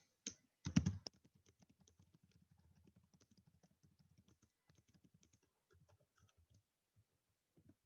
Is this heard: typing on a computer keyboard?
yes